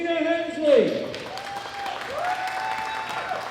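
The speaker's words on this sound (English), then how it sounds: "A big round of applause for Gina Hensley." Applause for a bronze medallist at a world classic powerlifting championship ceremony, a soft steady patter of clapping beneath an announcer's amplified voice.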